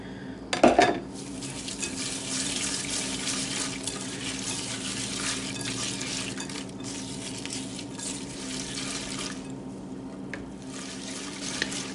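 Spoon stirring a corn casserole mixture with melted butter in a bowl, a brief clatter of utensil against dish at the start followed by steady soft scraping and mixing, close and alone.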